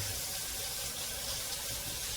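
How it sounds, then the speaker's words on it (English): Tap water runs steadily from a kitchen faucet over a candy thermometer coated in praline candy, a continuous close, even rush with no speech. "I like to run water on that thermometer to get that candy out there"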